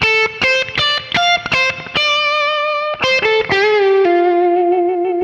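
Electric guitar plays a lick with pre-bends and string bends, loud and alone. Quick picked notes give way to sustained, rising bent tones with a light distorted, effected sheen.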